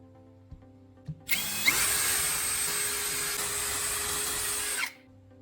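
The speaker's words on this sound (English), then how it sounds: "I stand the block upright and drill 2 vertical holes on the top surface" Close up, a power drill bores vertical holes into the top of an upright wooden block, its motor spinning up into a steady, loud whine for about three and a half seconds before cutting off.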